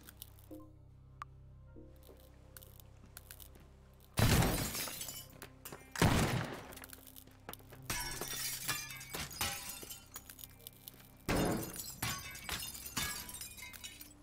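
Glass panes shattering in the Teardown voxel destruction game, several loud crashes with tinkling debris in bursts across the clip, each sharp impact followed by scattering shards.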